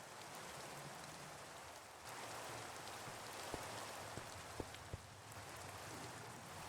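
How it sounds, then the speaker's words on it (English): Steady rain falls in a video game while building a hot spring, a dense even hiss throughout with a few faint soft thuds and no talking. "Of course rain comes right when I'm trying to relax."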